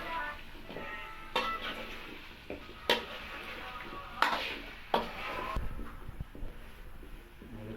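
Bitter gourd, potato and pointed gourd frying in a pan with a little water, stirred with a utensil that scrapes and clanks against the metal in sharp, irregular knocks over a soft steady sizzle.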